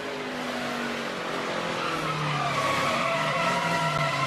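An ARCA race car slides loose going down into turn 1, its engine droning steadily loud with tire scrub rising underneath as the car drifts through the corner.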